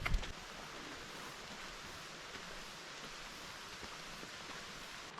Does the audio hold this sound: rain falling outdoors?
yes